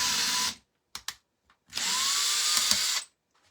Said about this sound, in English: And I'm just going to drill right through both.